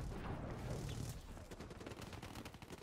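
Pistol fire in the Black Ops 3 video game comes as rapid repeated shots over a dense, loud game mix, with the shots clearer and more distinct in the second half.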